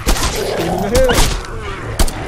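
Gunshots in the VR zombie game Lop Nor Zombie: several sharp bangs spaced across a couple of seconds, loud and close, mixed with a voice speaking over them.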